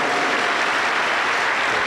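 Church congregation applauding together in a continuous, even roar of clapping, dense and close, with no voices breaking through.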